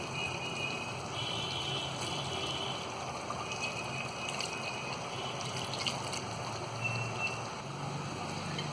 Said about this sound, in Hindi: अब इसमें हम ये आधा गिलास पानी डाल देंगे।